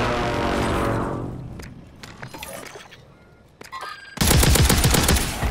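Gunfire in Call of Duty Warzone on Rebirth Island: a fading burst, scattered sharp shots, then a loud close rapid automatic stream at the end.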